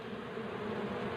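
Bees buzzing around an opened hive as a colony is harvested for honey, a close, steady droning hum with no pauses.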